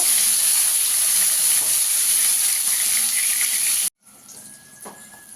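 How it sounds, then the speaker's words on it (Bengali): Eggplant pieces fry in hot oil with a loud, steady broadband sizzle that cuts off abruptly, followed by a quieter stretch with faint clinks and residual crackle. "বেগুনগুলো একটু লাল লাল করে ভেজে নেব"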